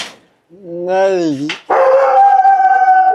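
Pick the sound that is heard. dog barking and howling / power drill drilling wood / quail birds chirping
dog barking and howling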